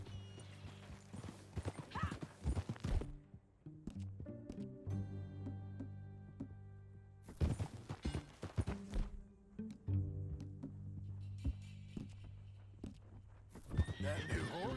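In the video game Red Dead Redemption 2, horse hooves clip-clop in uneven bursts alongside loud neighs and whinnies, heard close over an ambient backdrop without talking.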